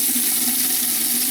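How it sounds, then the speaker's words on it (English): Water rushes steadily from an opened domestic faucet on a plumbing system with a tankless water heater port, bleeding off line pressure in a continuous broadband hiss with no voices. "open up the faucet, let off any pressure."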